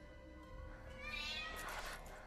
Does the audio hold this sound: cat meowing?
yes